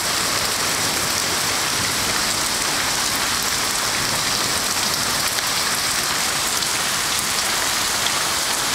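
Heavy rain from a thunderstorm in Missouri pours down in a dense, steady roar, drumming constantly on surfaces nearby with no letup and no voices.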